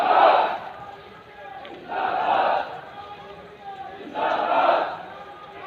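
A crowd of farmers shouts slogans at Muzaffarnagar railway station. Three rhythmic bursts of massed voices rise and fall, separated by quieter pauses.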